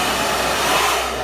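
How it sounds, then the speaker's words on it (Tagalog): Handheld hair blower running with a steady whirring motor and airflow roar, close and loud, holding constant throughout. "ito po yung sa blower niya"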